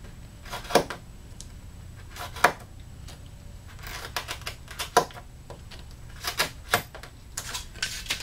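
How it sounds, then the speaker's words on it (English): A short-bladed razor knife scores through a carbon fibre strip for an X brace joint, making a series of sharp, dry clicks and scrapes in irregular bursts against a quiet room. "I'll just simply use a razor knife, the short blade, and I'll score through."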